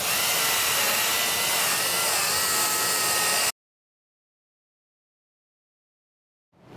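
A power tool whirs loudly and steadily up close as a sanding mop spins, then stops abruptly, leaving a few seconds of silence.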